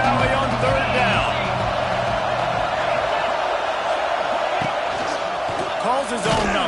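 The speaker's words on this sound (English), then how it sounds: "Here comes the noise from this big crowd in Happy Valley on third down." A big stadium crowd roars on third down at Penn State's Happy Valley in the NCAA 26 football video game, a loud sustained wall of noise with a commentator talking over it.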